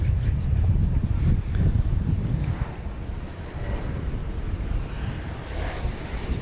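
A passenger airplane arriving at DFW Airport at night, heard as a loud, steady broadband engine roar that stays strong throughout, with some wind buffeting on the microphone.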